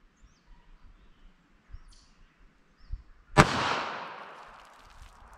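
A single .380 ACP Critical Defense pistol shot fired into a ballistic box outdoors, one sharp crack that rings and decays for about two seconds, with faint birdsong in the quiet before it.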